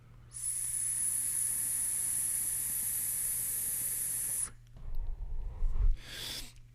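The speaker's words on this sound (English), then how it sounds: "I genuinely cannot believe this is vaping so well" A vape device hisses during a long drag, a steady airy hiss held for about four seconds, then stopping, followed by breathy exhaling and rustling.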